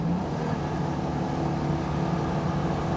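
A Citroën 2CV engine with a heavy flywheel, held at full throttle with the foot flat to the floor, gives a steady, continuous buzzing drone close by, with no voices over it.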